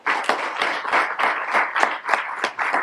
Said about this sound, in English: give a huge round of applause to Ambassador Peter Pham